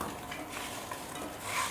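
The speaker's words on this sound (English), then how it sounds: "we'll throw those into the frying pan with the butter" Cubed apples frying in butter in a frying pan give a faint, steady sizzle with soft stirring scrapes, close by and without talk.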